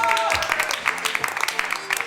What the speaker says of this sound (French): Tonnerre d'applaudissements pour Martin!